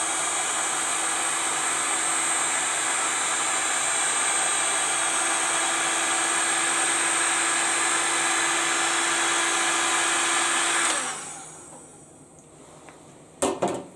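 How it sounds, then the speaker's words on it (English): A hot air gun blows steadily on a superglued metal part held in workholding, a loud continuous whooshing whine with a faint hum that cuts off near the end, followed by a few small clicks. "Put the hot air gun onto one part"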